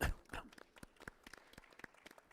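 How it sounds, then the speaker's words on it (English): Sparse, scattered clapping from a small audience at a football innovation panel, individual claps spaced irregularly and fairly quiet, fading after an initial burst. "Big applause"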